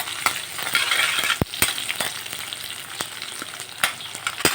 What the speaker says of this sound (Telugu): సో ఇవి కొంచెం వేగనివ్వాలి. ఉల్లిపాయలు అండ్ మిరపకాయలు కూడా వేసేసాను.